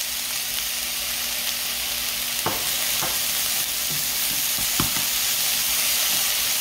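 Squid stir-frying in a hot pan with salt, seasoning and garlic, giving a loud, steady sizzle throughout, broken by a few soft knocks and scrapes of stirring.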